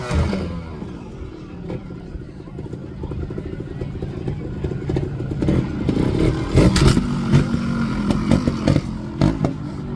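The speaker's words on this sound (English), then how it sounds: "The bike Connor's riding is a Gas TXT 300 Racing, so it's one of the most powerful bikes that you can get." A Gas Gas TXT 300 Racing trials motorcycle works over obstacles at a show and field day, its engine blipping and revving in short bursts with clattering and scraping of tyres on the course, mid-distance amid crowd ambience.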